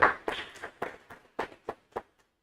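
A small, intimate audience claps to welcome a speaker: a short scatter of separate hand claps that thins out and stops within about two seconds, with no talking.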